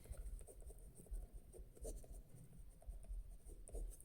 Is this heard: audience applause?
no